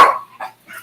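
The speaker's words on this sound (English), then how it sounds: "So that's my dog." A German Shepherd gives one sharp bark followed by two quicker, softer yips, close and loud, with no talk.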